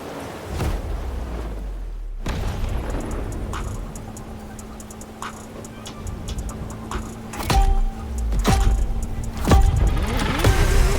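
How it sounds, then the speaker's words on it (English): A Lamborghini Murcielago drives through Honolulu in The Crew Motorfest, its engine a steady, fairly loud drone with sharp clicks and a few rising revs toward the end. "you'll be making some curves with the Lamborghini Murcielago"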